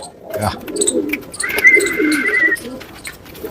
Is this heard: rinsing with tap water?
no